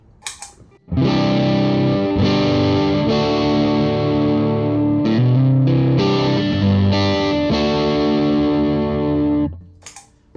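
Overdriven electric guitar on the neck pickup rings through channel 2 of a Joyo Tweedy amp, sustained chords strummed and held for several seconds, loud and close, with a brief fade at the end.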